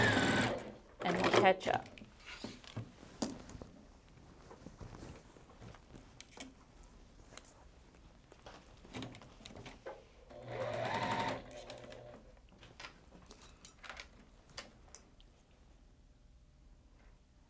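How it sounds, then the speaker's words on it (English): A sewing machine stitches quilt borders in bursts of rapid mechanical whirring, interrupted by pauses, with people chatting nearby throughout. "I'm gonna let her sew, and then we're gonna pin these other borders on,"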